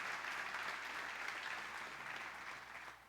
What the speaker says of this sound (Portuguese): Dá um aplauso pelas professoras infantis que estão ali.